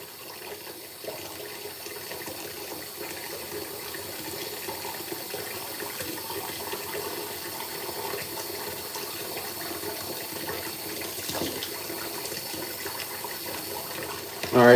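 Hot water runs steadily from a tap while a razor is rinsed during a beard shave, a constant close hiss of flow with slight splashing variations throughout.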